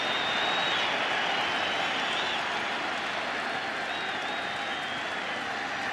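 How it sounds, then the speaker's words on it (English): Crowd at a Phillies vs Yankees 2009 World Series baseball game, a broad, steady roar of cheering and clapping from a large stadium audience, sustained and distant-sounding without pause. "Crowd trying to get back into it."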